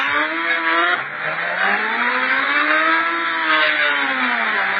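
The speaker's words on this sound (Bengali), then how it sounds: "আর অনেক জোরে চালাচ্ছি বাইক গাইস" Motorbike ridden fast, a loud continuous engine whine rising and falling in pitch with speed, close and steady throughout.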